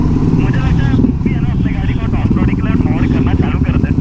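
An off-road motorbike engine revs and accelerates on a trail near Mumbai, a loud, steady engine drone running throughout with people talking over it.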